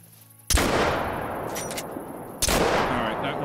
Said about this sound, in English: Alright, that one was a headshot.